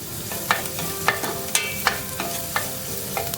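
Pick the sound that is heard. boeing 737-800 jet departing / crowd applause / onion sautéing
onion sautéing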